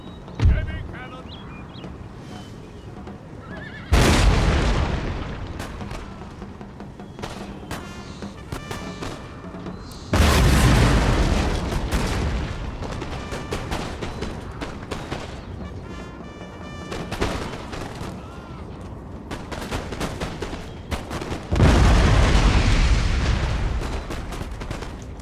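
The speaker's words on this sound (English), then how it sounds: "Heavy cannon." Heavy cannon fire from the Total War strategy game erupts in three loud, rumbling bursts of booming artillery with shorter crackling shots between them, and game voices are heard in places.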